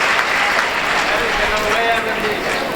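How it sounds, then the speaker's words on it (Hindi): Loud, steady applause from a large audience at a stage event honouring a couple, filling the whole moment with dense clapping, with voices mixed into the crowd noise. "जरा हाथ ऊपर करके जोरदार तालियां बजाओ"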